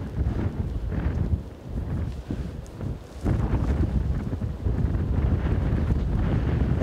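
Strong wind buffets an outdoor microphone on a deer hunt, a continuous loud low roar that swells and gusts throughout with no speech over it.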